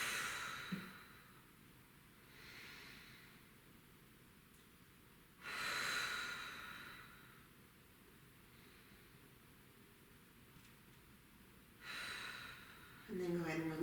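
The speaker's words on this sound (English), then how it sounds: "I'm going to take 3 deep breaths here." Slow, deep breaths taken while holding a hip stretch in a runners' mobility routine: several soft, airy inhales and exhales, close to the mic, spaced a few seconds apart over a quiet background.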